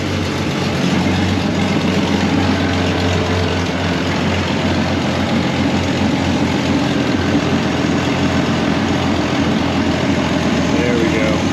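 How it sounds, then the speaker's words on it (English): A Jeep Cherokee 4.0 engine runs at a steady, loud idle, a continuous low rumble with no clear start and no break over several seconds. "Starting the engine."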